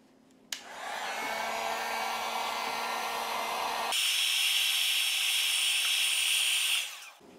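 A heat gun blows a steady, loud hiss while melting a chunk of beeswax inside a water drum, switching to a higher, brighter blowing setting midway before cutting off near the end.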